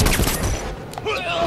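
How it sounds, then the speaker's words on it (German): A quick burst of gunfire rattles out in Batman Arkham Origins, loud dense shots at the start that die away within a second, followed by fainter game sounds and a voice. "Scheiße, ich hab leider geschossen."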